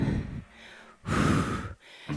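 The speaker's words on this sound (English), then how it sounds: "Keep breathing in and out." Heavy breathing from someone holding a plank during an ab workout routine, with two strong, breathy exhalations or gasps separated by quieter breaths, close and fairly loud.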